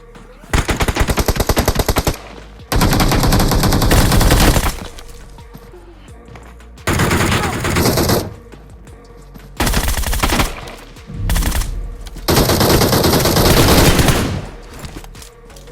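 Bursts of rapid automatic GROZA rifle fire in BGMI PUBG Mobile gameplay, loud and close, coming in several long volleys separated by brief quieter gaps with game ambience.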